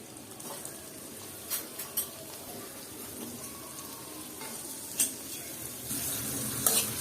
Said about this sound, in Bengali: এই একই তেলে আমি পেঁয়াজ দিয়ে নিলাম